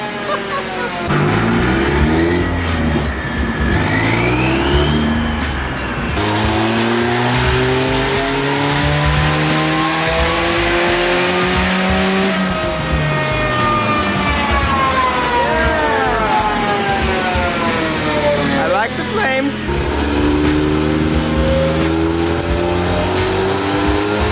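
A twin-turbo D16 Honda Civic engine revs hard on a dyno, its pitch climbing and falling in repeated loud sweeps with a steady, close roar throughout.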